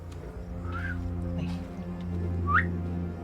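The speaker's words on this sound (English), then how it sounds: "I learned whistling at a young age." Two short rising whistles, one early and one near the end, sound over a low steady hum and faint background voices.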